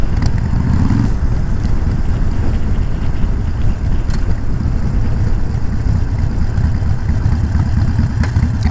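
A motorcycle rides around town, its engine a steady close drone with wind rush throughout, as heard from the rider's position and without talk.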